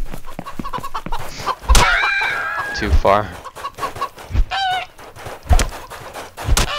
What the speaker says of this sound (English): Come here, stupid chicken.